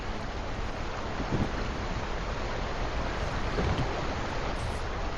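A waterfall in the video game Sekiro gives off a steady, unbroken rush of falling water that fills the whole stretch at an even, fairly close loudness, with no voices.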